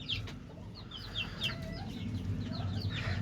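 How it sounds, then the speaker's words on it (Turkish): A broody hen among chicks in a farm flock, with soft low clucking under a steady stream of high, thin chick peeps, all close and moderately quiet. "anaç tavuk civcivlerin içine gitti ve hiçbirine vurmadı"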